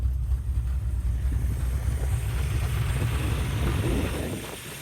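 A 1967 Chevrolet Nova SS with a 350 small-block V8 on a full roller motor idles with a lumpy, rumbling lope, a steady low growl close by with no talk.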